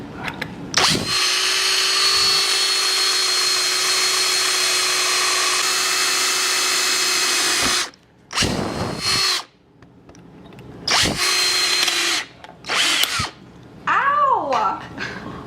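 A close power drill widens holes in a metal barrel, running loudly for several seconds without stopping. A few shorter bursts follow, and voices chatter near the end.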